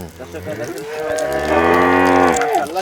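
A Jersey cow moos once, a long, deep, drawn-out call close by, rising and then fading away.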